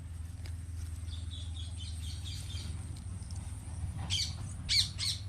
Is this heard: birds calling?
yes